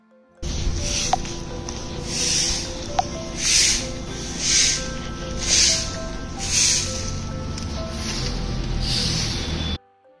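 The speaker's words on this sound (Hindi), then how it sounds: "गाइज, अभी आपको जो आवाज़ आएगी वो झाड़ू लगाने की आवाज़ है" A broom sweeps the ground at a gurudwara early in the morning, its strokes coming as soft, evenly spaced swishes, roughly one a second, over a steady background hiss.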